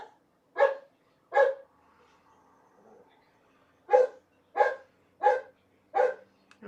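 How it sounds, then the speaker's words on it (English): A dog barks twice, pauses, then barks four more times in a steady rhythm, fairly close and clear against a quiet background. "my dog's barking because he doesn't like it either"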